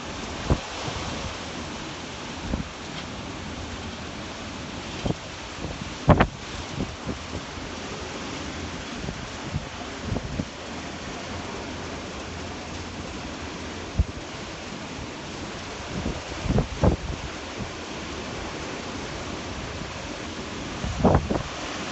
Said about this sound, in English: La mer qui est assez agitée.